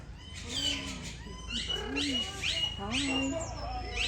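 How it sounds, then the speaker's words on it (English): Tropical birds call at the Tropical Birdland bird park in Desford, Leicester, making several rising and falling whistles and squawks close by, with people talking underneath. "Birds."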